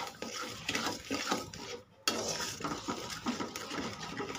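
Thickened milk being stirred in a pan while making sooji laddu, with close spoon-on-metal scraping and a soft sizzle, the stirring pausing briefly midway, no talk.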